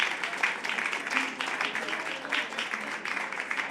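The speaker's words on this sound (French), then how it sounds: "je vous invite à applaudir quand ils arrivent sur scène" Applause from an audience at a regional event on the cybersecurity sector in Brittany, fairly faint and somewhat distant, a loose rippling patter of many hands clapping with uneven swells across a few seconds.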